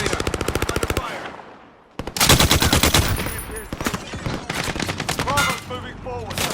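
Gunfire in the video game Warzone: a rapid burst of automatic fire, a brief lull, then sustained loud machine-gun volleys layered with other shots and game effects, close and dense throughout.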